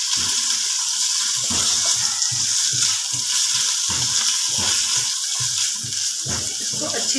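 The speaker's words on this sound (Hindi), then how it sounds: "इसको अच्छी तरह से फ्राई कर लेंगे।" Cubed chicken sizzles and fries steadily in hot oil with garlic, a continuous dense crackle with intermittent stirring scrapes, close and fairly loud throughout, no talking.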